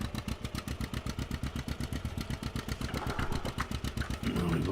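An Oliver tractor with big twin wheels drives over a planted field, its engine chugging in a steady, rapid rhythm of close, loud pulses that swell slightly near the end.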